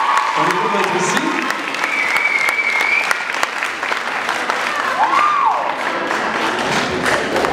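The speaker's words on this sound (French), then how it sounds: "on va t'applaudir, ça va te dégourdir un petit peu" An audience in a school talent show applauds a young singer, dense continuous clapping holding at a steady high level throughout, with a faint voice briefly rising above the crowd.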